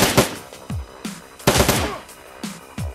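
Gunfire against turrets in the Shadowrun video game: several loud, close bursts of shots fire in separate clusters, with sharp blasts and falling tails spaced roughly half a second apart.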